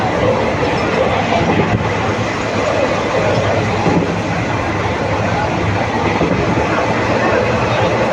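Superfast express train between Dindigul and Madurai running past Ambathurai, heard from inside as a steady loud rumble with faint rail clatter throughout.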